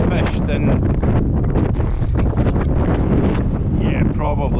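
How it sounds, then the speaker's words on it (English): Strong, gusty wind buffets the microphone beside the River Spey on a February day of salmon fishing in Scotland. The roar is loud and constant, with a voice partly audible beneath it. "it's probably the worst wind I've fished in"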